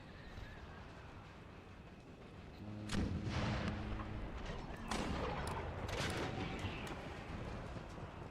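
Muskets fire in an Empire Total War battle, a distant quiet ambience breaking into ragged volleys of crackling shots and booming reports, with scattered bursts continuing and some faint voices mixed in.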